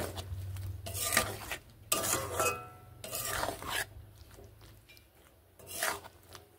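A flat bean mixture is stirred in a pan in several separate bursts of scraping and rubbing, with short pauses between strokes and a faint low hum underneath, close by and with no one talking.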